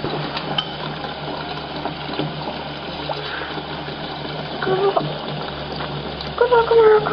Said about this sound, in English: You're sinking! The water's running!